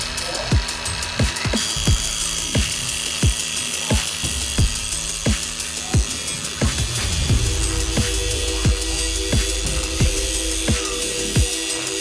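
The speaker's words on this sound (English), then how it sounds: "And now we're going to use the cut guide for the input shaft and trim it to the correct" A transmission input shaft being cut to length with a cut guide: steady grinding machine noise with a regular series of sharp ticks, close and loud throughout, with a tonal hum joining in the later part.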